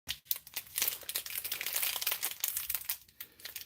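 A food wrapper of unknown age, pulled from a cupboard, crinkles loudly and continuously up close as it is handled, with rapid crackling bursts and brief pauses.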